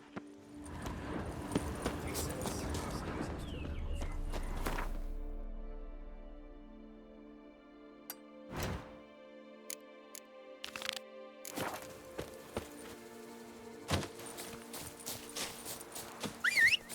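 Horse hooves in The Witcher 3, a rush of galloping hoofbeats in the opening seconds, then sparse scattered clops and clatters with gaps between them, fairly close.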